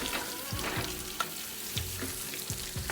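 A pork steak fries in a pan with a soft continuous sizzle, broken by several sharp scrapes and taps of a utensil at fairly regular intervals, fairly quiet and with no talking.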